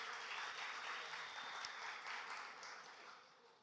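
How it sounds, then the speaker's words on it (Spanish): Audience applause for a guest speaker at a Spanish-language talk on ethical dilemmas of AI, a steady dense wash of clapping that holds for several seconds and fades slightly toward the end, with no one speaking. "Un aplauso para Caleb, por favor."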